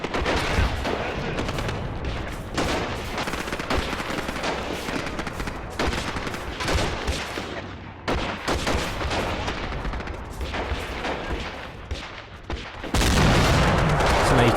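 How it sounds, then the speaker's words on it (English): Mortars fire in the WWII tactical game Graviteam: Fateful Strike amid a dense, continuous roar of battlefield gunfire and explosions that stays loud throughout and swells further near the end. "So now you can see the mortars firing."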